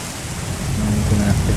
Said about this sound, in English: Oh, we're in acid rain.